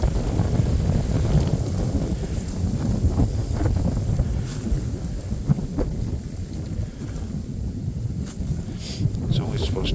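Cold wind blows outdoors in a hunting area, a loud continuous buffeting rumble across the microphone with gusts rising and falling throughout.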